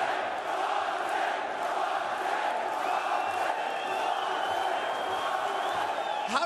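Crowd at a ONE Championship fight event in Denver, Colorado, a sustained roar of cheering and shouting that fills the arena, with a voice talking over it.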